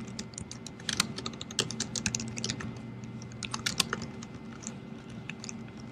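Programming code is tapped out on a computer keyboard in quick, uneven bursts of crisp keystrokes, close and fairly soft, with a few louder key hits and no talking.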